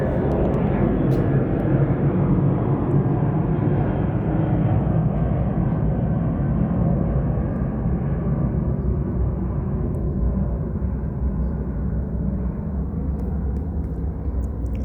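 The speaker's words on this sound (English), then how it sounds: "And that is Southwest Airlines again" A Southwest Airlines airliner passes overhead in the early morning with a loud, continuous low engine rumble that holds steady throughout, heavy and close, with no clear break.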